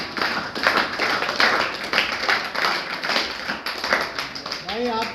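An audience clapping to welcome someone at a gathering, with irregular bursts of hand claps mixed with voices, and a person speaking briefly near the end.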